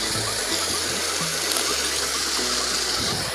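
A small waterfall at Parewadah in the forested hills of Balrampur, Chhattisgarh, giving a steady, close, full rush of falling water with a faint mechanical rattle beneath and no talk.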